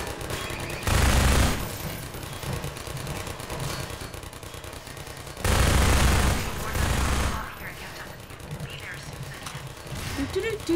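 Gunfire in the video game Half-Life 2 comes in two loud, dense bursts of rapid shots, with a quieter stretch of game noise between them and faint scattered sounds afterward.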